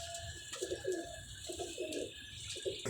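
Indian red pigeons coo softly in repeated low, throaty phrases, several bursts over a quiet background hiss, nearby but gentle.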